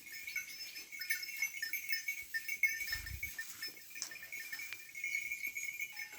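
Zwartbles crossbred ewes and their young lambs bleat faintly at a distance in a livestock pen. Thin, scattered calls sit over quiet background noise, with a single low thump midway.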